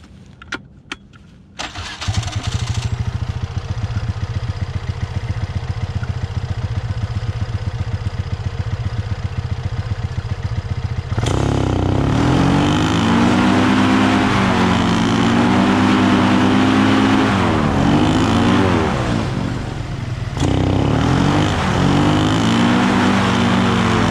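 Ultralight aircraft engine running steadily with a buzzing drone, then surging louder and rising in pitch as it powers up for a southbound takeoff in strong wind, close to the microphone and heard on its own.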